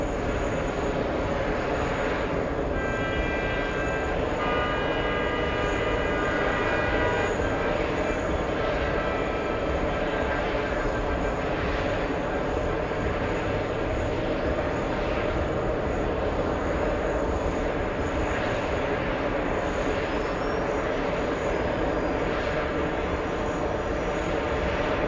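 A JetBlue airliner bound for Dublin takes off, its jet engines making a loud, steady roar that holds throughout, broad and continuous with a faint whine on top, with no talking.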